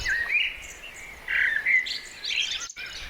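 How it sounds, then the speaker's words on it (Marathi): A blue peacock and several peahens call outdoors, giving drawn-out, wavering cries that rise and fall over a steady background hiss, with no talking. "ब्लू वाला मोर आणि बाकीचा लांडोर।"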